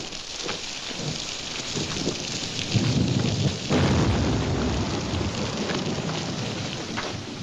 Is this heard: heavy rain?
yes